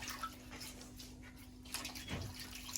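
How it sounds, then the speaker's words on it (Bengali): Water runs steadily from a tap while whole ridge gourds are rinsed, with splashes and a small clatter near the end over a low hum. "সবজিগুলো সব গোটা ধুয়ে নিয়ে তারপর কাটবো"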